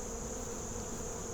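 Honeybees carrying pollen buzz continuously around their hive, a steady, close, moderately quiet hum with no voices over it.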